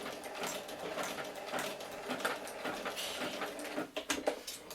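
A sewing machine runs a line of backward stitching on a flag poi handle, a steady close mechanical whirr with a rapid clattering needle rhythm that falters near the end, with no talking.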